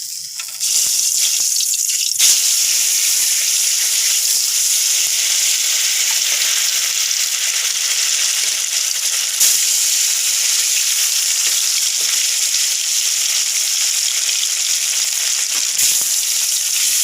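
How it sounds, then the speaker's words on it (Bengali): Fish sizzles and fries steadily in a hot kadai, a loud continuous crackling hiss with faint clinks of stirring, no voices. "এই প্রথমবার আমি মাছ ভাজা করবো।"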